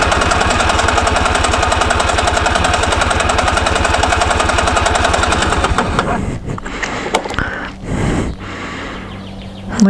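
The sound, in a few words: Honda Pantheon 125 2T scooter engine cranking at full throttle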